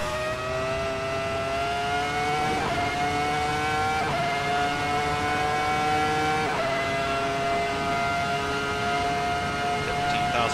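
Ferrari F2004 Formula One car engine in a Kunos racing simulator, screaming at high revs near 200 mph, with a loud steady whine broken by quick upshifts every couple of seconds and a brief lift off the throttle near the end.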